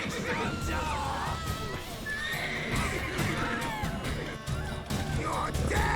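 A horse whinnies sharply amid clip-clopping hooves and combat clatter in The Witcher 3 video game, several neighs rising over a busy, close mix.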